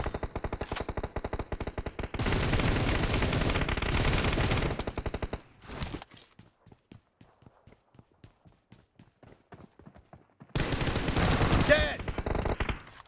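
Automatic gunfire rattles loudly in a PUBG match, with dense sustained bursts followed by a sparse run of separate shots and then another heavy volley, and no speech.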